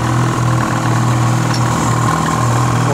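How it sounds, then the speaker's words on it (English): A brand-new 2009 Ski-Doo 600 HO E-Tech 50-year anniversary edition snowmobile engine idles steadily, with a loud, close, continuous two-stroke drone. "2009 Ski-Doo 600 HO E-Tech 50-year anniversary editions"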